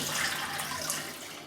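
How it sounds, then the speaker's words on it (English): Water runs steadily from a bathroom tap as a face is rinsed after a shave with a Merkur 37C safety razor, a constant close hiss without talk. "I'm just going to rinse off and I will come back."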